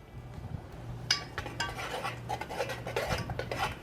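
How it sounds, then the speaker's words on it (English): A utensil stirs two cups of ketchup in a bowl for a rib sauce, making steady scraping and clinking strokes against the bowl that run continuously, close and moderately loud, with no talking. "Give that a stir."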